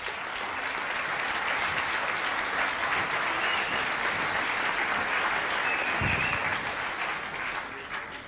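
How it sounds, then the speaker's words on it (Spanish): An audience at a film gathering with directors, producers and screenwriters bursts into sustained, dense applause that stays fairly even for several seconds before tapering at the end. "Un aplauso para el Jorge"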